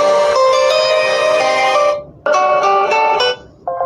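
A bright, melodic phone ringtone plays a tinkling tune, stopping briefly partway and then resuming in short phrases.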